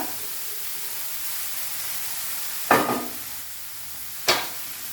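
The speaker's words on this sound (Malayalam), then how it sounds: "ഈ ഹൈ ഫ്ലെയിമിൽ തന്നെ ഇരിക്കട്ടെ ഇങ്ങനെ ഇളക്കിക്കൊണ്ടിരിക്കുക" Onions stirred in a pan over high flame, a steady hissing sizzle broken by two sharp scraping strokes of the spoon, close and fairly loud with no voices.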